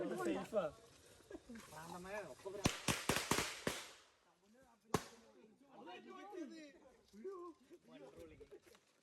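Firecrackers go off during an outdoor Vishu celebration: a rapid string of sharp cracks, then a single loud bang moments later, with people talking before and after.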